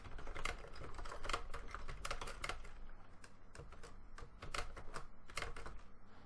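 Fingers type on a computer keyboard while adding a task in the Microsoft To Do app, a steady run of close, crisp key clicks in quick bursts with brief pauses, heard alone with no talking.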